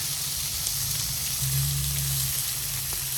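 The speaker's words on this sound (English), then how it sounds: "I'm starting getting that nice sear going" A New York strip steak sears on a Blackstone griddle with a constant close hiss and crackle, plus a faint low hum beneath, without speech.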